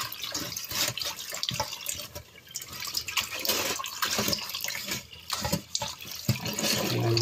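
A kitchen tap runs continuously while mint and coriander are washed by hand, a close, splashy stream of water with fluctuating gurgles as the herbs move under it.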